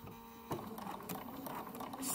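A sewing machine stitching fabric for a pair of shorts, a steady mechanical whir with a faint hum that starts sharply and runs continuously.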